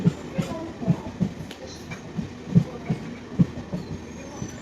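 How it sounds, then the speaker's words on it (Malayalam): A passenger train clatters along the track nearby, wheels thudding in a steady, evenly spaced clickety-clack rhythm over a low rumble. "Passenger train."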